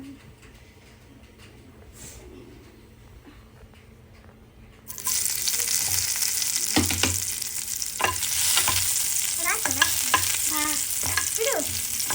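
Garlic sizzles in hot oil in a pan from about five seconds in, with a sudden broadband hiss and scraping stir strokes over it; before that, only quiet room tone.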